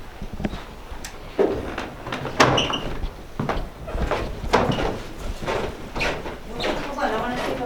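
A hotel room door in an old hotel bangs and clatters several times at varying distances, with thumps and handle rattles and the shuffling of people moving through a hallway.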